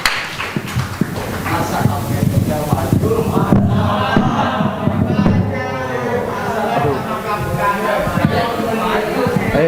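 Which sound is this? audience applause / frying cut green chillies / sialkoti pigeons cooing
audience applause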